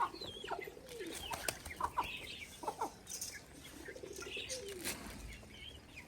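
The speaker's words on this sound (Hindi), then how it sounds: "मुर्गी के सारे छोटे छोटे चूजे भी, कबूतर भी जमा हो गए" Hens with small chicks and pigeons crowd together in a village yard waiting for feed: chicks cheep, hens cluck, pigeons coo and wings flap in scattered bursts at close range.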